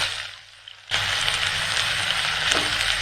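Onion, ginger and garlic hit smoking-hot oil after a brief quiet moment, bursting into a loud, steady sizzle and crackle that carries on close and continuous with no talking.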